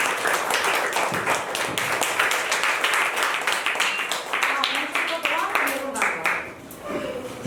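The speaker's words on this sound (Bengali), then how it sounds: "জোরে হাততালি" A live audience at a Durga Puja-season clothing distribution event at an ashram in Barasat applauds steadily for a singer, dense clapping sustained throughout at close range, tapering slightly near the end.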